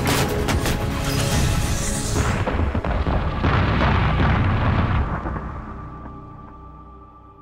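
Artillery barrage from a Korean War battle against an advancing Chinese force, heard as a dense, loud rumble of overlapping blasts and crashes that swells for several seconds, then gradually fades into a lingering low roll.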